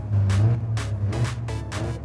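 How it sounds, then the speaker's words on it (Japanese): An Alfa Romeo sports car engine blipped in a series of short revs over a steady low idle rumble, four or five quick pulses close to the listener. "エンジンすげえレスポンスなんだけど"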